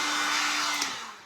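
A hair dryer blows close and loud on resin glitter on a refurbished tray: a steady airy roar with a faint motor whine that tapers off at the end.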